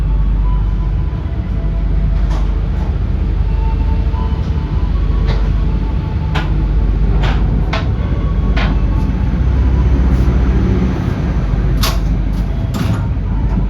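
A KA Pasundan passenger train pulling out of Kutoarjo station makes a steady, loud rolling rumble, broken by sharp clunks and knocks from the carriages.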